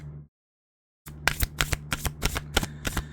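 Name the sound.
shuffling tarot cards to draw one more card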